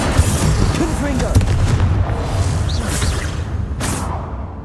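Confringo explosive spell in Hogwarts Legacy combat, loud booming blasts and whooshes over a dense rumbling battle bed, with game voices mixed in.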